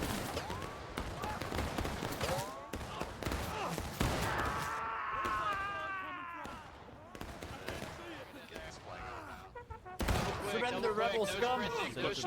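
Musket volleys from Union and Confederate battle lines trading fire in a Civil War video game, scattered cracking shots overlapping throughout under loud, excited talk from players.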